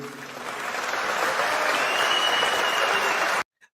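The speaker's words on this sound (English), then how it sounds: "even though people are clapping" An audience at a large opposition gathering claps steadily, dense applause that builds and holds at an even level, then cuts off abruptly.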